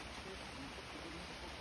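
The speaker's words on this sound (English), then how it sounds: "Actually, a river running right through there." A river runs through tropical rainforest, a steady, soft, even rush of flowing water heard at a distance with no break.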